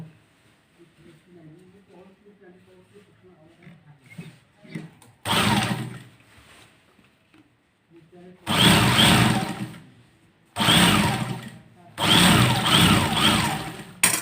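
A sewing machine stitches a Kallidar Punjabi in three loud, close bursts of rapid whirring, each lasting a second or two. Brief pauses separate the bursts, and a person speaks quietly before the stitching starts.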